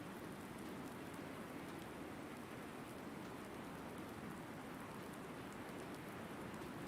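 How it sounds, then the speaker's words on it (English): Steady rain pours in Farming Simulator 19, a soft, even hiss of drops on surfaces that holds unchanged throughout, faint and continuous with no other sounds. "Sounds like I'm tinkling, but it's rain."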